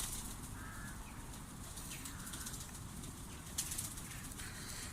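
Soft fluttering of pigeon wings flapping against a steady outdoor hiss, with a brief louder burst of flaps near the end and faint bird calls.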